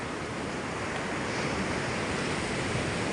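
Ocean waves surging ashore during a typhoon, a dense continuous roar of surf and wind, loud and close with no letup.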